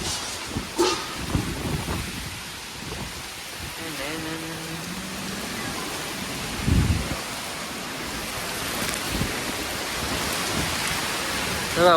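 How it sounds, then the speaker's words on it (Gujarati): Heavy rain roars steadily in a storm with strong wind and gusty rumbling bursts, while a voice speaks briefly in the middle over the downpour. "ઊંચા કોરડાની અંદર વરસાદ સાથે ફૂલ પવન ને વાવાઝોડું છે"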